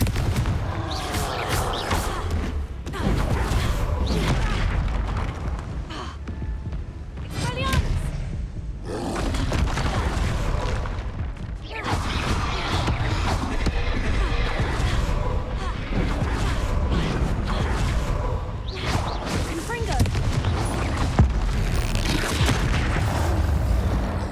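Confringo fire-blast spell in the video game Hogwarts Legacy: repeated loud booming explosions and roaring blasts in quick succession, mixed with in-game voices and battle noise.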